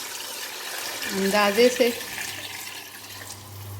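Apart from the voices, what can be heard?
water poured into pot of spice mix for rice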